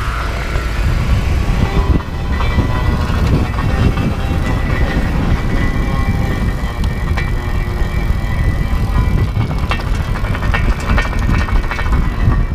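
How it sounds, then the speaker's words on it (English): A Biktrix Juggernaut e-bike is ridden outdoors while its loose rear fender rattles and bounces, the clatter riding over loud, constant wind and rolling noise at close range. "You can hear the fender in the back bouncing around."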